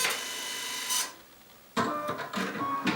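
A Baby Lock sewing and embroidery machine powering up, giving off a steady electronic whir, a brief pause, then busier mechanical whirring and clicking.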